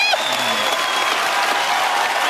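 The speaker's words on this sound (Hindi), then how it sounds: "एक बार जोरदार तालियां पाजी ली" Studio audience on The Kapil Sharma Show applauds after a singer's performance, a loud, even wash of clapping filling the room with a brief murmur of voices at the start.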